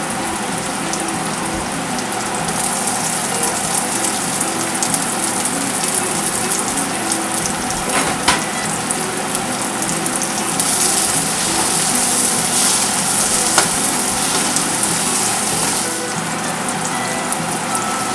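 Onions and capsicum fry in a pan as a pav bhaji snack is prepared, with a steady, loud sizzling hiss that runs unbroken throughout, broken only by a few faint clicks.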